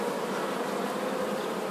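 Honey bees buzz at a hive while a new queen is introduced, making a dense, continuous drone that is close and loud, with no pauses.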